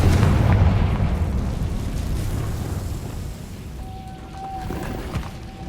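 Loud fire-blast spell explosion in the video game Hogwarts Legacy, a heavy booming burst at the start that rumbles and decays over several seconds, followed by a faint tonal hum and a small pop near the end.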